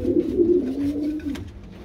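Pigeons coo softly in a breeding loft, giving a low, rolling, throaty murmur. The sound is close and steady with no talk over it.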